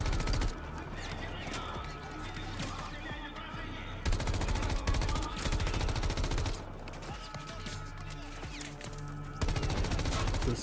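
Rapid gunfire from a weapon in Call of Duty: Modern Warfare 3 rattles in sustained bursts, loud and close, layered over dense game music and effects for the whole stretch.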